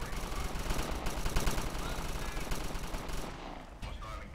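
Gunfire in the video game Satellite Reign comes as dense, continuous rapid shots and bursts, loud and close, that fill the clip and ease off near the end, with no talking.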